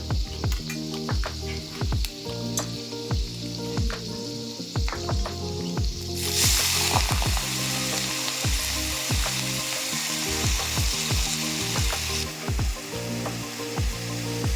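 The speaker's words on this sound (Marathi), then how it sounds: "लसूण छान असा फ्राय झालेला आहे आपण त्यात आता मेथीची भाजी टाकून घेऊया" Fenugreek leaves drop into hot oil with frying garlic, setting off a loud continuous sizzle with frequent stirring scrapes and clatter, the hiss surging brighter midway as the greens hit the pan, no speech.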